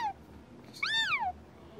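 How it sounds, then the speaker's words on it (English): A single clear cat meow, rising then falling, fairly close against a quiet background. "The bus driver hears a meow"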